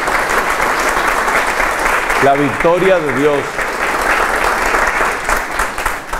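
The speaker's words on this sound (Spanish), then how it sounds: "un aplauso de amor para ella" Loud, sustained applause from a church audience during a catechesis talk, with a voice speaking briefly over the clapping partway through.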